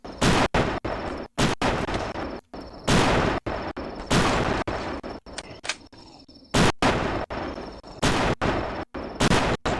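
Gunfire in The Last Stand, a game: loud, sharp shots fired in uneven bursts, with brief silent gaps between many of the cracks, and no voices.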